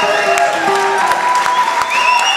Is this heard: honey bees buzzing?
no